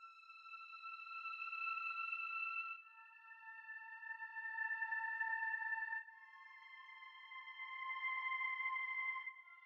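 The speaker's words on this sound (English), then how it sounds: "So I use this ambient pad from Astral." An ambient synth pad with heavy reverb plays sustained layered chords that shift about every three seconds, smooth, wide and alone with no voices.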